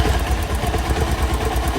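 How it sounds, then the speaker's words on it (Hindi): A Bajaj Pulsar 150 motorcycle engine runs near and steady, with a rapid, even ticking 'kin-kin' knock pulsing through the idle, alone without talk. "इसमें एक किन किन आवाज़ आ रही, किन किन किन किन।"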